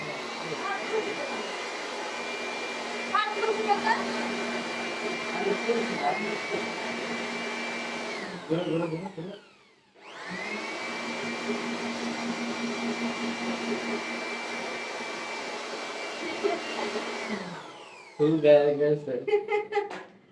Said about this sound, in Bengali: এটা কি মেশিন জানি এটা বলোয়ার মেশিন